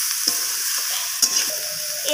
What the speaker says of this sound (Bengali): লবণটাকে দেওয়ার পর আমি আবারও সবজিগুলোকে কষিয়ে নিচ্ছি।